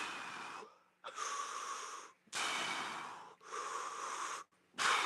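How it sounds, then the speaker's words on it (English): Heavy breathing during a full-body workout with 15 lb dumbbells: four long, loud, wheezy breaths in a steady rhythm with short pauses between them, close to the microphone, no talk. "We breathe out on the way up."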